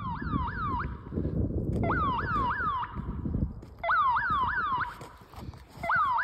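A security alarm blares on a residential street, its loud warbling siren repeating in rising sweeps with short gaps, heard over steady low outdoor rumble.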